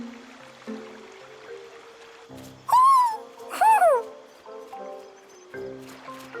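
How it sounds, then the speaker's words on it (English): An owl in the Tales of Arise game gives two clear, close hoots a second apart over a soft ambient forest bed with gentle rustling. "Hey, is that owl beckoning us over?"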